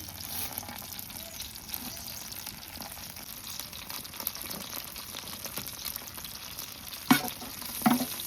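Cumin seeds spluttering in hot oil in a home kitchen pan, a steady soft sizzle with faint crackles and a few sharper pops and stirring clinks near the end.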